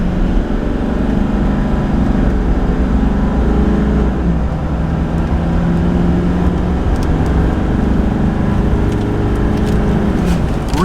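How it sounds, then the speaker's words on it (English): A GMC Sierra LML diesel pickup truck with over 200,000 miles revs and accelerates hard, a loud steady roar that rises and drops with gear changes, no voices. "we're gonna do a quick acceleration test"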